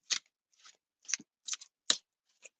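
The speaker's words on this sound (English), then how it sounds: "You guys see me shuffling" Tarot cards are shuffled in a series of short, crisp riffling bursts with brief pauses between them, close and fairly quiet.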